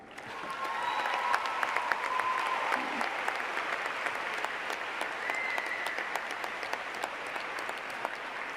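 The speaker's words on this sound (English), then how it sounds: "Give yourselves a clap." Sustained audience applause fills a university speech hall in Dubai, a dense, steady wash of many hands clapping throughout, with faint cheers briefly rising above it.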